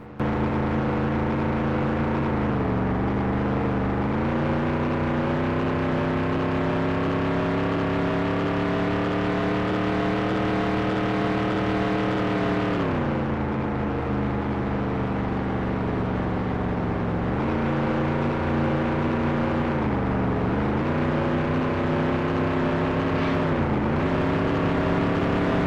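Race cars on the final lap in Nascar 98, a loud, steady engine drone with shifting pitch as the engines rev and ease off repeatedly, with no talking.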